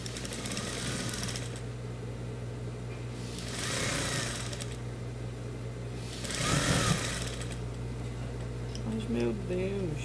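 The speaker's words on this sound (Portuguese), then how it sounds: "E vou costurar." A sewing machine stitching a patchwork rug, its motor running in a steady low hum with short bursts of faster stitching, while someone talks over it.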